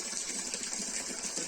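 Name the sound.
water flowing down from mountain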